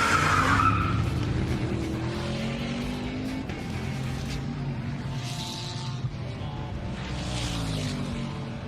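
Top fuel dragsters scream off the line at a drag race start, a steady loud roaring engine noise that holds from start to finish with no gaps.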